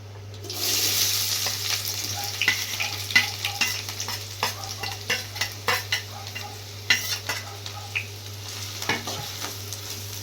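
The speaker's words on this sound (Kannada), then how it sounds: "ಫಸ್ಟ್ ಉಳ್ಳಾಗಡ್ಡೆ ಫ್ರೈ ಮಾಡ್ಕೊಳಂತ್ರಿ" Onions frying in hot oil for a country chicken gravy, a steady sizzle broken by repeated clinks and scrapes of a spoon stirring against the pan, no talking.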